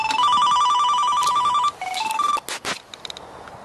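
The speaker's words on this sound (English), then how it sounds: "Oh, bugger. Phone's ringing." A telephone rings loudly with a repeating electronic tone, then cuts off into a few short clicks and faint sounds.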